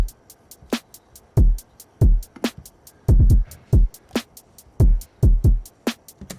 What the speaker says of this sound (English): So if I were to play everything without the effects that's on the drum bus, it sounds like this.